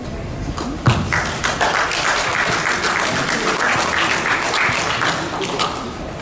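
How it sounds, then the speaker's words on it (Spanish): A conference audience gives a speaker on semantic web a strong round of applause, dense close clapping sustained for about six seconds with a few sharp individual claps. "Invitámonos con un fuerte aplauso, por favor."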